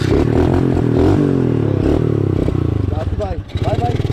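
A mini motorcycle engine revs loudly up close, its buzzing harmonic tone rising and shifting pitch as it accelerates, with voices talking over it toward the end.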